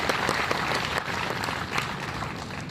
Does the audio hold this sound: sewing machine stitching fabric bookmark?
no